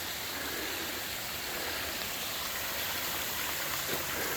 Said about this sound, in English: nice little waterfall just climbing out of Spirits Creek, and the beautiful waterfalls down there.